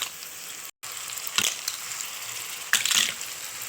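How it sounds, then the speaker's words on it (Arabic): Clams sauté with onion in a hot pan, sizzling steadily with two bursts of stirring scrapes, no talking. "بنقعد نقلب كده علشان عايزينه يتشوح مع البصل تشويحة بسيطة كده مش كتير"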